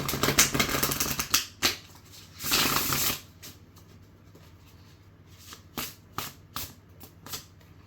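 Tarot cards are shuffled up close in crisp riffling bursts, two long runs followed by a few short flicks separated by quiet pauses, with no talking.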